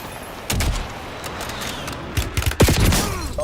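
Airstrike explosions and gunfire in GTA V, several booming thuds and cracks, some close and heavy, over a steady background rumble.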